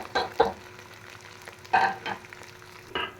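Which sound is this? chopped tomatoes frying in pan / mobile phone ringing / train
chopped tomatoes frying in pan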